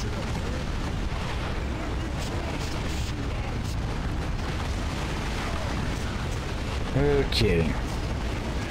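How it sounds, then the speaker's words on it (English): Grenade blasts in Warhammer 40K: Dawn of War 2 Retribution rumble through a dense, loud battle din of booms and bangs, with a brief spoken word from a man. "Grenades."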